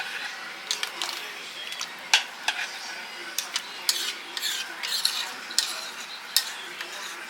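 A starch and water slurry being stirred into a pot roast in a Dutch oven, with irregular scraping strokes and light clinks of a utensil against the pot, close and moderately loud over a faint sizzle.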